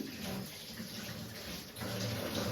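Water gushing steadily from a loose pipe in a Himachal village, a moderately quiet continuous splashing flow that thickens in its final second, with no voices.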